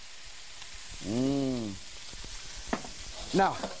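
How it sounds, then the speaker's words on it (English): Wood ear, cloud ear and king eringi mushrooms are stir-fried in a pan with a steady soft sizzle. A voice speaks briefly over it, and a few light clinks sound near the end. "Whoa, stir fry all of these."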